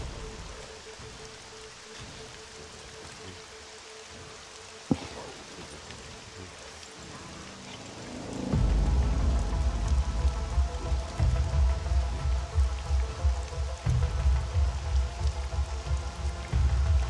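Rain falls in the survival game SCUM, starting as a faint patter and swelling after a sharp click into a dense, steady downpour hiss with scattered heavier drops.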